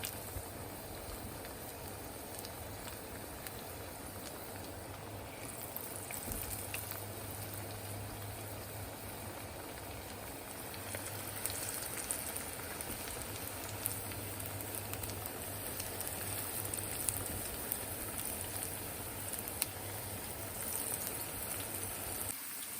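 Vegetable pakoras fry in hot oil over medium heat, a steady faint sizzle and crackle running throughout without speech.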